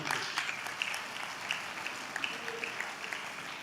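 Applause from an audience at a political party constituency conference, a steady dense patter of many hands clapping together, sustained and moderately loud throughout.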